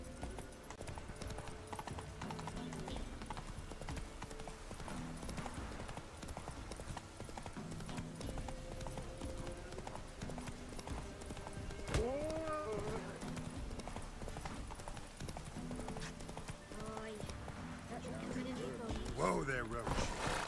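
Roach the horse trotting in The Witcher 3, hooves clip-clopping in a steady rhythm with a brief whinny midway, under game music and voices talking.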